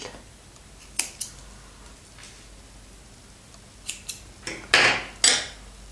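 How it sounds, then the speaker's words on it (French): Scissors snip crochet yarn in a few sharp close cuts, one near the start and a quick cluster of louder snips toward the end, with quiet handling between them and no talking. "on coupe notre fil"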